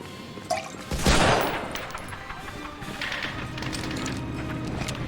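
Video game gunfire from an OPM demo disc: a sharp burst of shots near the one-second mark, then a steady rattle of game noise and scattered smaller reports that carry on to the end.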